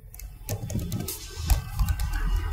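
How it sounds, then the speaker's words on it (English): A password is typed on a computer keyboard during an eTrade bank login, producing a short run of light, irregular key clicks close to the microphone over a faint background hum. "Type in your password."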